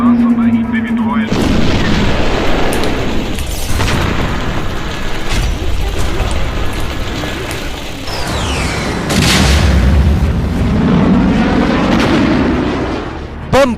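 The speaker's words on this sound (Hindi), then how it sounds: "बम बरस रहे हैं" Wartime bombardment in Ukraine: heavy booms and artillery blasts recur through the clip, with a rising whine and rumbling aftermath, mixed under a voice speaking over the footage.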